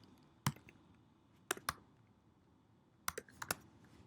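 Sparse keystrokes on a computer keyboard, a handful of crisp clicks spaced irregularly in a quiet room, close by.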